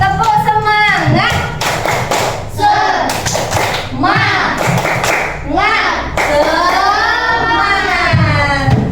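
A classroom group of children chants tepuk semangat, loud rhythmic bursts of clapping and thumping interleaved with sung chanting voices in a call-and-response pattern.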